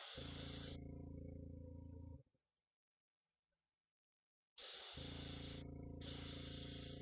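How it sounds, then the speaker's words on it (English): An airbrush sprays primer paint in a steady, close hiss over a low motor hum, stopping for about two seconds before resuming with short bursts. "See, this is what airbrushing is supposed to be."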